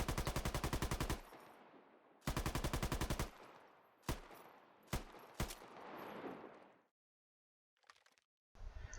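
A PKM machine gun with iron sights fires in the video game Squad, playing as several loud, rapid bursts of automatic fire broken by single sharp shots, and then a short pause before a final burst starts.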